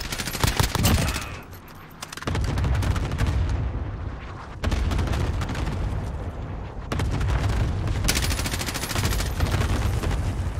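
Heavy gunfire in a Call of Duty Warzone match, with loud, dense bursts of rapid shots and booming impacts coming in waves, separated by a brief, quieter lull, with no talking.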